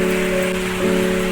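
Steady rain falling during the first rainfall of the year in Mahendranagar, Kanchanpur, Nepal, a continuous even hiss with a faint tonal hum running underneath.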